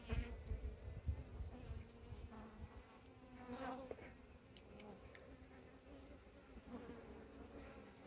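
Honey bees buzz steadily around a hive frame holding brood and eggs, a close continuous drone with shifting intensity and occasional louder passes near the microphone.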